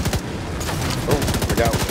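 Rapid automatic gunfire from the video game The Division 2 rattles in fast bursts throughout, loud and close, with a few heavier shots mixed in.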